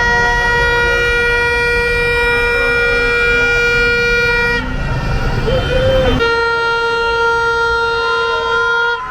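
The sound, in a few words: vuvuzela horns blowing at New Year's Eve street party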